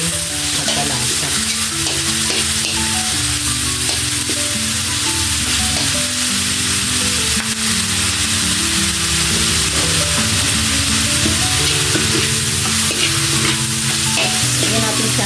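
Vegetables sautéed with fish sauce sizzle loudly and steadily in a pan for shredded spring roll filling, with repeated scraping and clattering of a utensil as the mixture is stirred, no voices.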